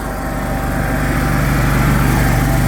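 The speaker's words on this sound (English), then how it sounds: "That will start your air compressor." A small 110-volt air compressor on a 2012 Chevrolet Silverado K3500HD utility service truck runs with a steady, rapid mechanical chugging drone, loud and close, holding an even pulse throughout with no talking.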